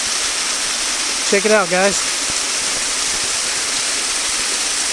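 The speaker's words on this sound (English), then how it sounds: "This is probably the best we're going to get as far as a view of the entire waterfall." Steady broadband rush of Tise Falls at Hanging Rock State Park, North Carolina, fills the whole clip, with a brief spoken phrase over it near the start.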